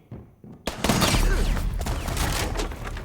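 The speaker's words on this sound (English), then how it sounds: "somebody tried to drop a nitro down low. Nitro detonated." A nitro cell explosive detonating during a competitive round of a tactical shooter game, a sudden loud close blast that rolls into a sustained rumbling burst of gunfire and debris.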